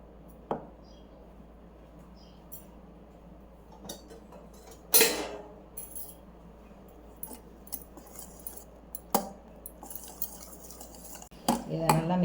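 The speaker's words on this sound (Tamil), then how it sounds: "இப்போ இதில் கொஞ்சம் கொஞ்சமாக விப்பிங் க்ரீமை மிக்ஸ் பண்ணிக்கலாம்" A spoon scrapes and clinks against a bowl as whipped cream is folded little by little into a homemade chocolate ice cream mixture, giving irregular taps with one louder clatter, close and otherwise quiet.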